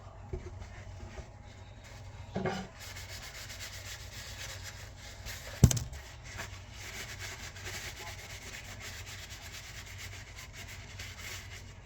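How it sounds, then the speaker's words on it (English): Cooking oil being rubbed by hand into a wooden knife handle and sheath, a soft, close, steady rubbing with a couple of brief louder knocks along the way. "we're going to go ahead and rub down the sheath as well."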